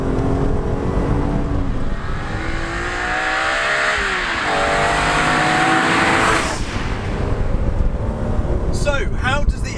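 A BMW Z4 M sports car engine revs hard close by, climbing through gears with loud rising pitch, a shift midway, and a rough burst near the end.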